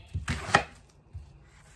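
Half an onion is chopped on a board for Jamaican curry goat, giving a few close knife strikes in a quick cluster and one softer chop after a short pause, with no voices.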